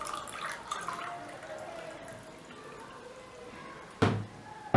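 Water poured into pizza dough ingredients in a basin, a soft steady trickle and splash running for several seconds at close range, ending in a brief louder knock.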